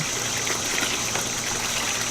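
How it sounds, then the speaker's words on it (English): Water gushes steadily out through a small pinhole leak in a water garden pond liner, a close, constant rushing flow with no pauses. "I can see it down there where the water's running out."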